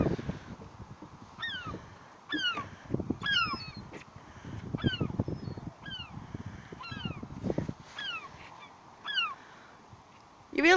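Seagulls squawk and call repeatedly in short, sharp bursts around a crabbing spot at Deganwy, trying to steal the bacon bait, with rustling, handling noises and breezy outdoor rumble between the calls.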